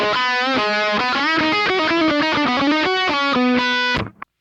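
A heavy, distorted electric guitar played through a Friedman amp profile on a Kemper rings out in a loud run of sustained, chugging chords and notes, ending abruptly with a short final stab.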